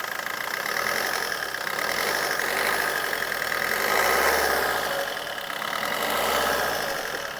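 A 2016 Suzuki Ciaz VDI+ diesel car engine idles steadily up close with a knocking diesel clatter, rising in two gentle revs partway through and settling back to idle, with no talk.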